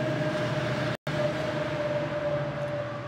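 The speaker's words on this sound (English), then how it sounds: "will give the GO train a moment to get past" A GO commuter train rolls past an East End seniors' building in Toronto, a steady loud rumble with a sustained tonal hum that holds throughout, broken only by a split-second dropout.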